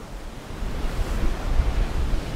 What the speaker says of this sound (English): The wind has picked up now,